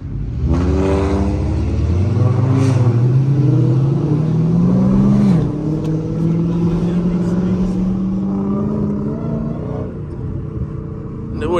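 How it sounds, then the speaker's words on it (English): A car with a Nissan VQ engine revving and accelerating in traffic, the engine note climbing steadily and loud up close, with a voice talking over it. "What, a VQ engine?"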